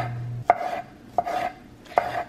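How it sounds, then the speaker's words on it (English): A knife chops a juicy tomato on a cutting board for pico de gallo: three separate sharp cuts, evenly spaced and close by, with a low background hum. "we will start by chopping a tomato"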